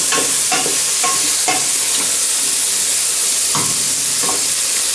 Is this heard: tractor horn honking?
no